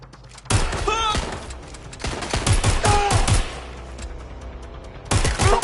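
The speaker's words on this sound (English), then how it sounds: "They're shooting at us!" Gunfire in the video game Watch Dogs: Legion comes in several loud bursts of rapid shots and thuds, with short gaps and a final burst near the end, and a voice cries out between the volleys.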